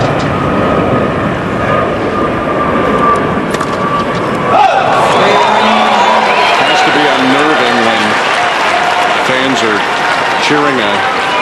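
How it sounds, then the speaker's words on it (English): Spectators at a professional women's tennis match, Bencic against Halep, break into loud sustained cheering and applause after a fault, a dense crowd roar filling the stadium, with a commentator's voice partly over it. "Cheering a fault."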